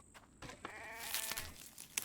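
A sheep in The Infected survival game gives a wavering bleat lasting about a second, mid-loud and fairly near, framed by a few short clicks and knocks.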